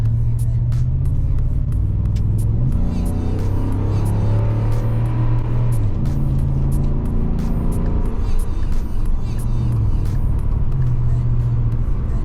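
A first-generation Raptor pickup truck engine rumbles steadily and rises and falls in pitch as it revs, close and loud, with a constant low drone throughout.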